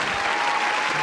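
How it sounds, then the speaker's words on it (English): Studio audience applause greeting Joe's intro on a lively podcast, a dense, steady wash of clapping filling the whole moment at close, even loudness. "Round of applause for Joe in the intro."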